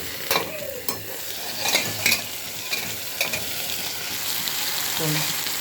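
Ridge gourd softened and cooking in a pan with its lid just lifted, giving a steady broadband sizzle broken by several sharp scraping stirs and utensil knocks, close and fairly loud throughout, with no talking.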